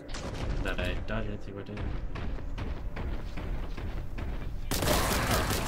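Grenade explosions in the video game Warhammer 40,000: Boltgun crash out as a dense barrage of thuds and blasts, with a large louder burst near the end, while someone talks over the din.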